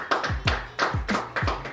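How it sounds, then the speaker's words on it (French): Several people clap from their homes to applaud healthcare workers, heard as repeated sharp hand claps in uneven bursts, fairly close and moderately loud, with no talking. "on est sorti pour faire une pause pour applaudir le personnel soignant"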